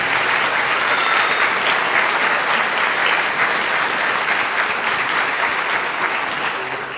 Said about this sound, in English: One round of applause for the fourth grade.